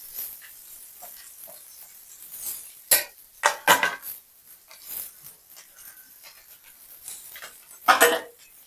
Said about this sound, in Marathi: बटाटा आपण टाकलेला आहे चांगला आपण बटाटा परतून घेणार आहे